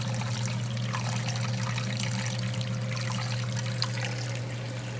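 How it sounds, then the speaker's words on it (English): A Kenmore washing machine pushes out water in a steady, continuous rushing and trickling flow over a low, constant mechanical hum, with no voices. "Kenmore is pushing out water there."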